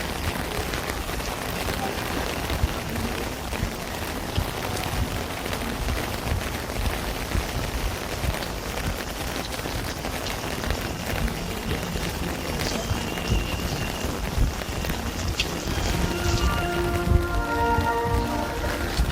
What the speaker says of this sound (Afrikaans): Rina, hoor je? Dat reën.